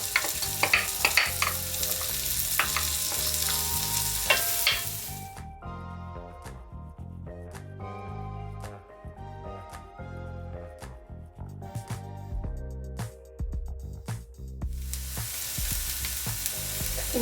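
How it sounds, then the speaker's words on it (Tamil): Onions fry in butter in a pan for a bread masala. A loud, bright sizzle drops to a quieter crackle with faint background tones, then surges again near the end. "இப்போ இந்த வெங்காயத்தை ஆட் பண்றேன்."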